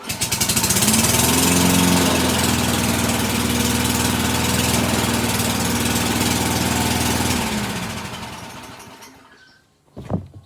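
Old walk-behind lawn mower with working drive wheels running loudly and steadily up close, then cutting out and winding down to near silence, followed by a brief clunk at the end.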